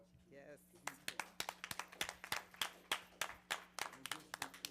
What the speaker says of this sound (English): let's give a warm applause to